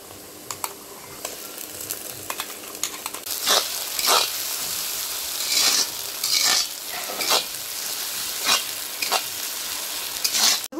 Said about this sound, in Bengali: মিক্সিতে বেটে রেখেছিলাম আদা, রসুন, পেঁয়াজ, শুকনো লঙ্কা আর জিরে, এটা দিয়ে দেবো